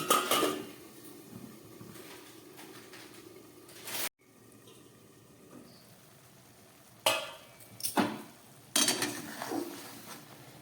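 Chicken tarka cooking in a covered pot on very low gas gives a low, steady sizzling hiss. A sudden drop into near quiet follows, then several bursts of utensil and lid clatter near the end.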